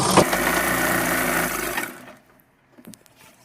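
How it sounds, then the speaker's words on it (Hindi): An electric sewing machine runs a steady, loud stitching burr for almost two seconds while sewing elastic onto a half-elastic pant, then stops; a few faint clicks follow in near silence. "इस तरह से हम रखेंगे इसको और सिलाई लगा लेंगे हम इसमें।"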